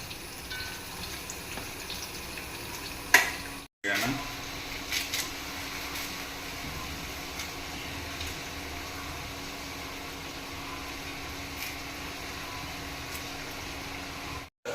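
Chopped onions frying in hot oil for a Kerala-style pork curry, a steady low sizzle running throughout with a brief clatter and a short break near the start, no one talking.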